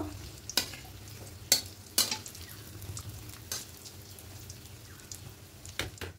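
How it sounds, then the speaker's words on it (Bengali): Semolina-coated fish pieces fry in a pan, giving a continuous close sizzle punctuated by several sharp clinks and scrapes of utensils turning them, with no voices. "লাল করে ভাজা হয়ে গেছে, এবার গ্যাসটা অফ করে দেবো।"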